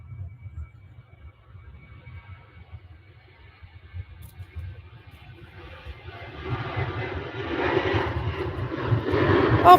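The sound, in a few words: Ryanair airplane speeding down the runway at takeoff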